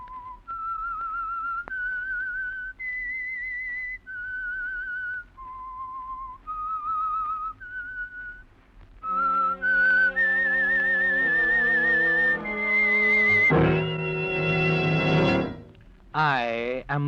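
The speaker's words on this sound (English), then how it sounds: "That whistle is your signal for the Signal Oil Program" A lone whistler carries the eerie theme of The Whistler radio show, clear sustained notes rising and falling, then an orchestra swells in with a dramatic chord and brief flourish at the end.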